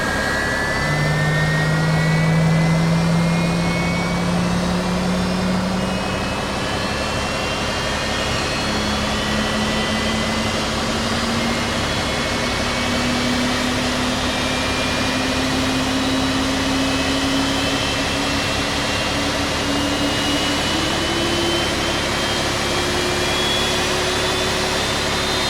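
Boeing 767-300 jet engine spooling up during start in X-Plane 11 flight simulator, a steady loud whine rising gradually in pitch over a constant roaring hum, with no talking.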